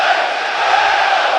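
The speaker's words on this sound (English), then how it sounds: "Crowd responds." Crowd at a Leeds United versus Portsmouth football match, a loud, continuous roar of many voices throughout.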